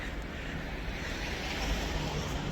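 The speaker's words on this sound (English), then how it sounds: "It's windy as all get out." Strong wind on the Oregon coast buffets the microphone as a continuous loud broadband roar, with surf-like rumble underneath and no voices.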